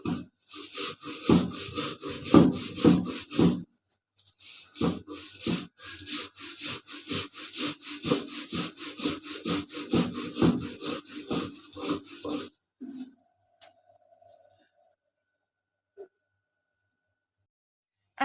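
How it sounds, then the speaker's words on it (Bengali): Nigella seeds (kalijira) are ground by hand in steady, rhythmic rubbing strokes, loud and close for about twelve seconds before stopping, with a few faint sounds afterward. "এখন আমি কালিজিরাগুলো সবগুলো বেটে নেব।"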